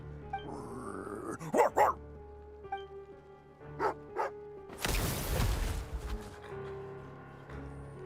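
A dog in the Genshin Impact game barks in short sharp bursts, then growls low, set against a faint game music bed with a brief rushing swell in the middle.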